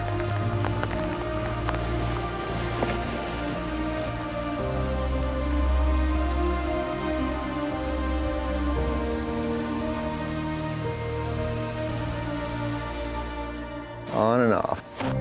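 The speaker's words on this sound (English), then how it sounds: "Here comes the rain." Rain patters steadily on a surface in a high alpine basin in the Yukon mountains, under a sustained tonal hum, with people talking.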